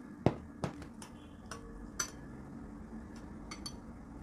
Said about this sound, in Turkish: Bakın iyice karıştırdım.